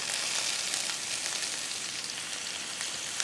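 Vegetables and San Marzano tomatoes sizzle and fry in a pan, a steady crackling hiss with small pops, close and continuous with no voices.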